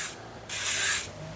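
Fine 1500-grit sandpaper rubbing on a metal tool, a close, loud hiss that swells into one longer stroke, with no talking.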